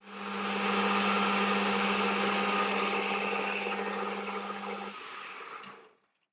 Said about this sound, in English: the best thing to do is to machine a taper to a point in your headstock